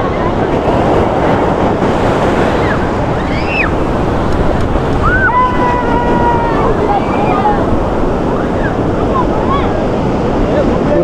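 Ocean surf at Somnath beach rolls in as a loud, continuous wash of waves, blended with steady wind buffeting the microphone and a few faint voices in the background.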